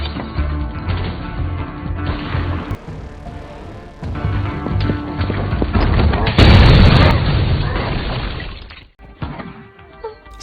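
A grenade blast in a film siege scene at a house, with a loud booming burst and crashing debris that swell mid-way, amid layered action-movie noise and a soundtrack, then fade abruptly.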